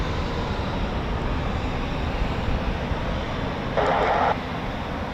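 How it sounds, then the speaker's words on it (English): A Eurofighter Typhoon FGR4 jet of the RAF during a quick reaction alert scramble, a broad continuous engine roar at a steady loud level, with a brief brighter surge near the end. "There are more Typhoons going out very shortly."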